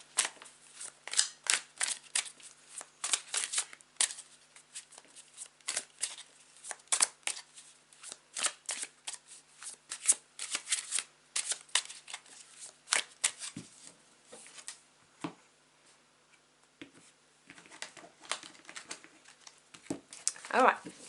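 A tarot deck is shuffled by hand in repeated quick riffling bursts of crisp card flutter, close and fairly loud, with brief pauses between rounds.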